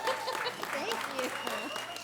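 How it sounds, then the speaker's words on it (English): An audience at a live comedy show at the Hollywood Improv claps in a dense, sustained burst, with voices and cheers mixed into the applause. "That's quite a bit of applause there."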